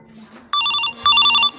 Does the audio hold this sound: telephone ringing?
yes